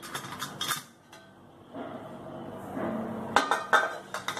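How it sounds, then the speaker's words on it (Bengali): A metal lid lifted off a momo steamer after steaming chicken momos, giving a couple of close, bright metallic clinks and clatters over a soft background hiss, with no one talking. "আচ্ছা, এবার কি আমি চাপাটা খুলবো শেফ?"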